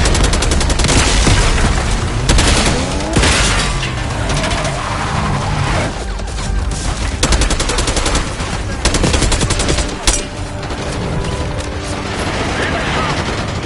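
Loud, sustained gunfire from a Call of Duty Black Ops 6 campaign battle, with heavy rapid bursts and explosive cracks layered over shouted commands and combat noise throughout.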